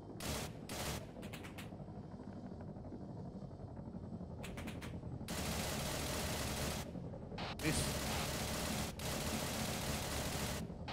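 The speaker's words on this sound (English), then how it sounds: "He's shooting at us." Someone firing on a group during a military operation: faint, distant bursts of rapid gunfire come in irregular clusters over a steady background hiss.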